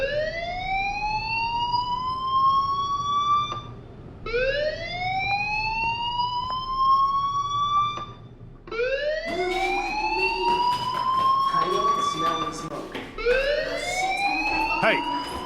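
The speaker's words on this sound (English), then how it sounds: "Hey, do you hear that fire alarm?" A school fire alarm in the Life is Strange game wails in four long rising sweeps, each holding steady before cutting off briefly, loud and close, with faint background noise under the later cycles.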